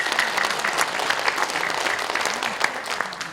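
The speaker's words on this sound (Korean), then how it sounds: "이 대목에서 박수를 주시기 바랍니다" An audience in a National Assembly members' hall auditorium in Korea applauds during a forum speech, a dense, steady clatter of clapping hands that holds evenly throughout.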